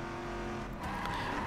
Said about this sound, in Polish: Gaz do dechy